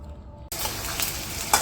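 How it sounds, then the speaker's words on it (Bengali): Onion, garlic and dried chillies hit hot oil in a pan and burst into a sudden loud sizzle after a quiet moment, then fry steadily and close with a few stirring scrapes. "পেঁয়াজ রসুন শুকনো মরিচ সব কিছু দিয়ে দিচ্ছি, একটু ভাইজে নেই।"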